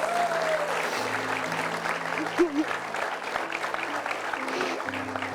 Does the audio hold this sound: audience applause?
yes